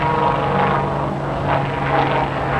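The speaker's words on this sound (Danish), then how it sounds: "ser vi linkshelikopteren i høj fart," Lynx helicopter flying at high speed and climbing at a 1984 open house at Flyvestation Værløse airbase, a steady loud rotor and engine drone with gentle pulsing swells throughout.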